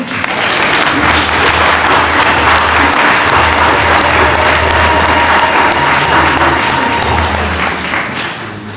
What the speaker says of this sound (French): Applaudissons-le.